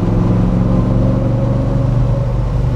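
A 1972 De Tomaso Pantera with a 5.8 l V8 idling roughly and unevenly, a loud, deep, steady engine rumble heard close up, with no voices over it.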